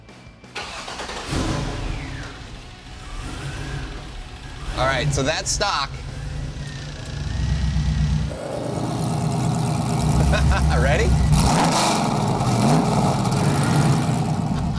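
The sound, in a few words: Chevrolet Trailblazer engine revving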